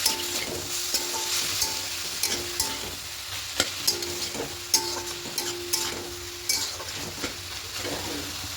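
Bathua greens stirred in a frying pan, a steady sizzle broken by regular scraping strokes of a spatula, close and alone with no talk.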